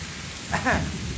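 Monsoon rain pours steadily outdoors in rural Bengal, a dense, even hiss throughout, with a short voice rising briefly over it midway.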